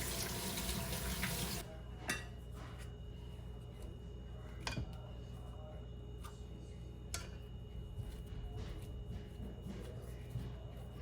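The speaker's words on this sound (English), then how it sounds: "I'm going to go ahead and wash my hands." Tap water runs steadily into a kitchen sink during hand washing after mixing millet-based fura, a loud initial gush easing into a continuous mid-level stream with a few faint clicks and clatters, no talking.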